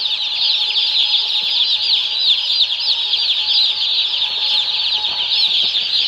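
A large flock of chickens gathered around feed trays in a barn makes dense, constant overlapping clucks and chirps, loud and close throughout.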